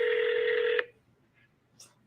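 A phone dials a call with a sustained dual-tone sound for almost a second, then cuts off, followed by brief faint clicks and near silence.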